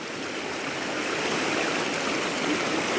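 Floodwater from heavy overnight rain rushing through a Thai river beside cassava and rubber plantations, a steady, loud broadband roar of churning water filling the whole stretch without pause or voices.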